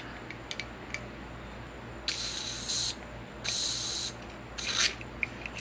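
WD-40 lubricant is sprayed in several short bursts of hiss, some brief and some lasting about a second, up close over a faint background hum.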